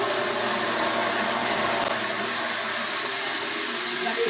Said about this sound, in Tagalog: maandar na po yung pinaka motor pump natin.